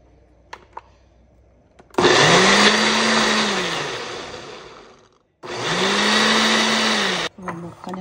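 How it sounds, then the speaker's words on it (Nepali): A kitchen mixer blender runs in two loud whirring bursts while blending keratin hair pack ingredients. Each burst whines up to speed and then winds down, with a short pause between them and light handling clicks before and after. "अब मिक्सरमा हालेर यसलाई ब्लेन्ड गर्ने।"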